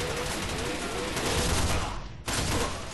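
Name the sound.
gunfire in the video game Arctic Combat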